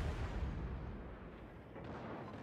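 Secondary guns of a warship fire in a naval video game, a dense rumbling barrage of booms and blasts that carries steadily throughout at moderate loudness, with no voices.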